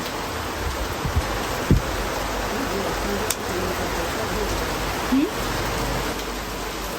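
Steady rain falling outdoors near a home with an enclosed sofa and grapevine, a continuous even hiss with a few faint knocks and thumps.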